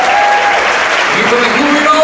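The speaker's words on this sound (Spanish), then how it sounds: "Vamos a levantarle un fuerte aplauso a nuestro Señor en este día" A church congregation applauds in a loud, dense, continuous wash of clapping that runs throughout, with voices rising over it.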